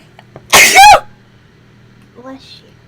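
A single sharp sneeze bursts out close by in a quiet room, followed moments later by a short spoken word.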